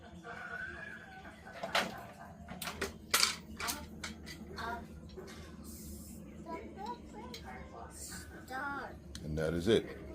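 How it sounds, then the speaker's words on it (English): Sharp, irregular clicks from a Samsung 86-inch QLED TV's motherboard stuck in a reboot loop with a shorted panel, heard close over a steady electrical hum with faint background talk. "You can hear the motherboard clicking."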